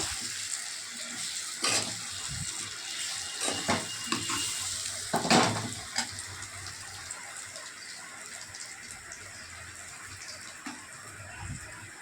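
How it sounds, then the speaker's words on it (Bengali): Raw mango pieces stirred with red chili powder in a pan for sweet-sour pickle, a few scraping strokes early on over a soft, noisy hiss that fades to a quieter, even background. "লাল লঙ্কা গুঁড়ো দিয়ে আমটা সুন্দর করে নাড়াচাড়া করে নেব।"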